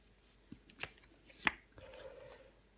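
Tarot cards are laid out and handled on a table, a few soft scattered slaps and sliding rustles with one sharper snap near the middle, faint and close.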